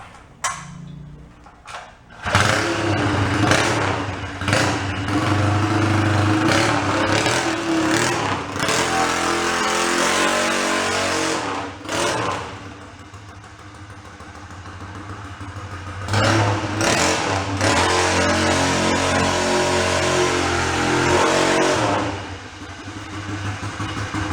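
A 1955 homemade motorbike engine fires up after a brief start attempt, then runs and revs loudly in a buzzy, uneven roar, dropping back twice before rising again, with no talk.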